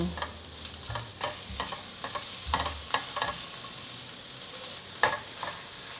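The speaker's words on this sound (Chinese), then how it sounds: "快速翻炒。 做丸子的馅料先炒过" Meatball filling of shredded taro, sweet potato, carrot and ginger stir-fried in a pan, with scraping spatula strokes and soft sizzling in irregular bursts, close and moderate, no voices.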